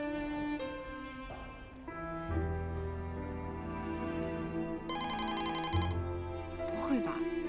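A telephone rings repeatedly on an organ donation hotline, bright electronic ringtone tones sounding close and clear in a studio setting while people speak over them.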